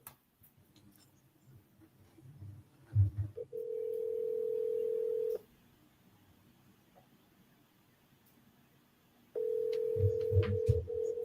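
Phone call being placed: a short burst of dialing clicks, then a steady ringback tone for about two seconds, a pause, and the ring tone returning near the end, fairly quiet with faint background clatter.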